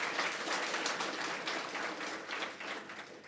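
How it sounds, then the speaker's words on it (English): A steady round of applause from an audience at a CEOs' breakfast dialogue, dense overlapping clapping filling the room evenly from start to finish without voices over it. "Samuel a proper round of applause?"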